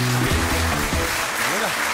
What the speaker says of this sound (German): Applaus, aber auch für die anderen beiden.